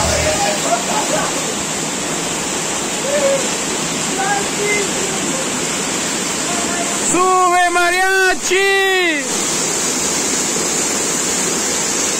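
Steady roar of the Pan de Azúcar waterfall near Caluma, Ecuador fills the whole clip, with scattered voices and a couple of shrill whistle-like calls partway through.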